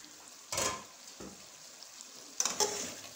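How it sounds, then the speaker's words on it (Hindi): Beef karahi with tomatoes cooks in a pan, giving a continuous sizzle with a couple of louder bursts of frying and stirring. "अब इसको हम 2 से 3 मिनट तक के लिए इस तरह से भुनेंगे ताकि टमाटर के छिलके जो हैं वो अलहदा हो जाए"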